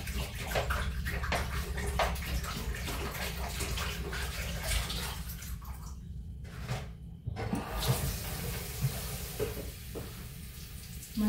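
Water runs from a tap in a steady, close, broadband rush that fills the whole stretch, with a brief dip partway through and no talking.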